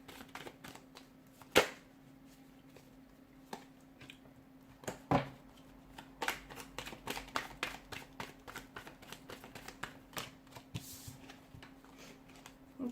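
Tarot cards riffle and snap in quiet, rapid clusters of soft crisp clicks, with a few louder flicks and a busy stretch of quick taps in the second half, close and intimate.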